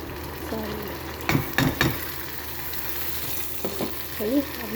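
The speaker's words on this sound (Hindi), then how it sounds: "अब ये टमाटर हरी मिर्चें मैंने डाल दी और मैं इसको अच्छी तरह से भून लूँगी" Tomatoes and green chillies fry with onions in a pan for an egg curry, giving a continuous close sizzle broken by a few spoon scrapes and clinks against the pan, with no talking.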